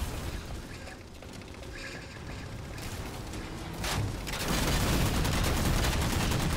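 Gunfire rattles through a Halo 4 multiplayer match, with sniper shots among dense, continuing bursts that grow louder and more crowded toward the end.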